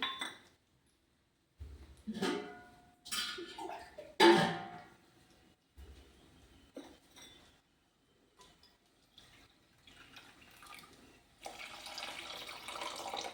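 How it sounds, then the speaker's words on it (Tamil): Water splashes and pours into a pot of jaggery in a few bursts, with clinks of metal and glass, ending in a steady trickle. "இப்போ தண்ணி அதே மாதிரி 2 கப்பு தண்ணி ஊற்றிக்கணும்"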